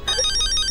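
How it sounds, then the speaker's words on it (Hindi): A short electronic phone ringtone plays, a bright repeating trill that cuts off almost immediately. "तारक का फोन है।"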